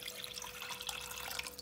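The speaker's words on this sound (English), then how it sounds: "Onto high heat, we add our water to our sugar" Water being poured into sugar in a pot over high heat for rose water syrup, a soft, steady close pouring and splashing with a faint background hum and no talk.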